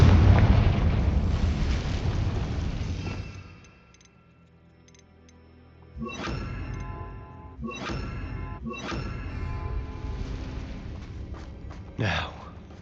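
Confringo spell blasts erupt in the video game Hogwarts Legacy: a roaring burst fades out, then several sharp, loud impacts follow in quick succession, with a final crack near the end.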